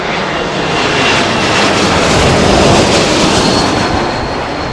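An Airbus A220 (formerly the Bombardier CS300) at London Heathrow Airport during a storm, producing a loud, continuous jet roar that swells slightly and then holds steady, with no talking.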